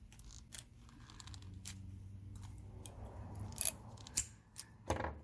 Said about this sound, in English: Put in our screwdriver. Let's give it a turn.